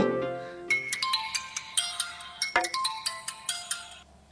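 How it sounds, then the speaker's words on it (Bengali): A mobile phone ringtone plays an unanswered call, a bright repeating melodic pattern of chiming notes, close and clear, with no voices over it. "আরে ফোন ধরছে না তো।"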